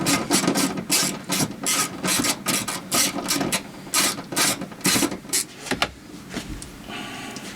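Ratchet tightening small 1/4 inch bolts during a steering column install, rapid clicking bursts in an uneven rhythm, close and fairly quiet, with pauses between runs.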